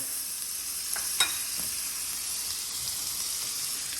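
Seafood sizzles in compound butter on a hot griddle, a steady bright hiss with a couple of brief sharper crackles near the start, fairly quiet and without talk.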